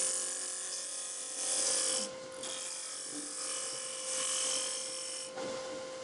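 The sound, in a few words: turning tool cutting a wood spindle on a lathe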